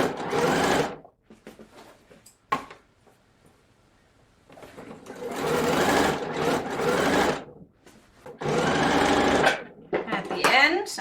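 A sewing machine stitches straight through blouse fabric in several bursts of steady, close whirring, separated by pauses.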